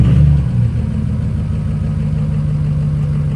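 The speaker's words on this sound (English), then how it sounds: "Maybe now it will idle back down because I didn't even want to put it into gear running that high." A truck's engine idles loud and close after work on its injector and FICM wiring harness, a steady low rumble that eases slightly from a higher idle in the first half-second, with no voices.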